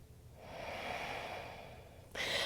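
A single long, audible exhale during a yoga flow, a soft breathy rush lasting about two seconds, followed by a brighter hiss of breath or movement at the end.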